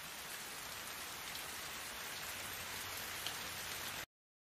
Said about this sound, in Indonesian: Walaupun hujan deras